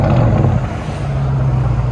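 A 2022 Dodge Charger Scat Pack Hemi with Flowmaster Outlaw exhaust and carbon fiber tips rumbles at idle, a deep, close, steady burble with a slight dip partway through.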